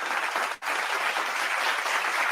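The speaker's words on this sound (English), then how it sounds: "We give you a round of applause for that." Continuous, dense clapping fills the room as a round of applause at an NFL Draft watch party, loud and close, broken by one abrupt brief dropout early on.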